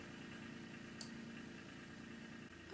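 A farm tractor's engine idles steadily just outside a window, a constant low rumbling drone with a faint mechanical hum that holds at a moderate, unchanging level throughout.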